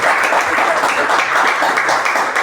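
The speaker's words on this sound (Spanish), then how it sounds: "Este aplauso es para ustedes" Church congregation applauding during a service, a loud, dense and continuous burst of clapping from many people, close and sustained without pause.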